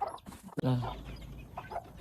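Young chick being flipped onto its back to tell male from female gives a few soft clucking calls close by, brief and fairly quiet, with a little handling noise around them.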